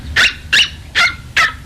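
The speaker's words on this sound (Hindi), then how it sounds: "भौंक भी बिल्कुल जाहिल कुत्तों की तरह है" A dog gives four sharp, evenly spaced barks, loud and close, with no talking.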